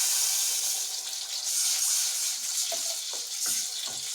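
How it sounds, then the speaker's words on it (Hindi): Half a cup of water poured into a pan of cabbage rolls in tomato sauce, making a steady loud hissing, sizzling pour with small bubbling splashes near the end. "वो पानी डाल देंगे।"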